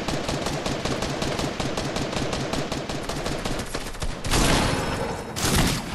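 Rapid, continuous automatic gunfire from a video game rattles loud and close as a dense stream of sharp shots, with a heavier burst of blasts toward the end.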